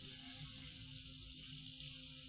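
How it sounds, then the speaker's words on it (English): Steady broadband rush of a waterfall in the background, constant and fairly faint, with a low hum underneath and no talking. "you can hear the waterfall in the background"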